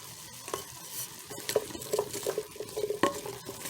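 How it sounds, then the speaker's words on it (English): Garlic and carrots being stirred in a hot pot for a beef pot pie filling, with a steady close sizzle and repeated scraping strokes of a utensil against the pot. "And we're going to go ahead and mix it."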